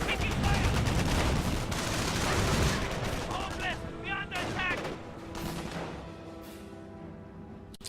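Automatic BAR rifle fire crackles in a WWII real-time strategy battle, dense overlapping bursts loud at first, then thinning into scattered shots and echoes while a voice speaks briefly.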